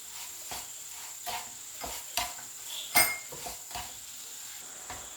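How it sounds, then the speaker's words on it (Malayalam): Rava kesari mixture with sugar and cardamom being stirred in a pan, with repeated metal spoon scrapes and taps against the pan and one sharper clink, close by over a faint steady background hiss. "ഇതിന് എല്ലാം കൂടെ ഒന്ന് മിക്സ് ചെയ്യാം"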